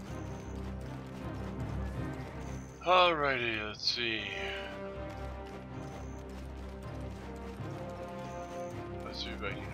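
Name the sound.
horse hooves clip-clopping in Black Desert Online video game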